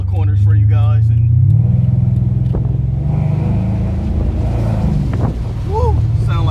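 A Mercedes-Benz CL550 engine roars loudly and steadily under wind noise, with brief higher whines and bursts near the end.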